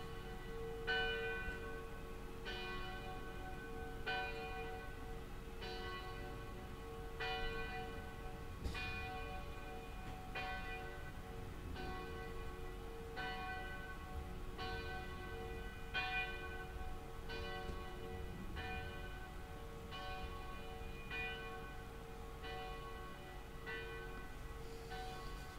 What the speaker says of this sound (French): laisser écouter les cloches de l'église sonner